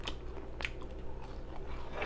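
Crispy fries being eaten during a mukbang burger meal, close crunchy bites and wet smacking chews in quick irregular succession, heard alone without talk.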